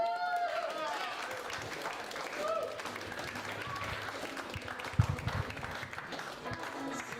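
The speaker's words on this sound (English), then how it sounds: "please keep clapping for Pat Thornton." A comedy club audience claps for a comedian, steady applause running under a loud announcer's voice, with a sharp thump midway.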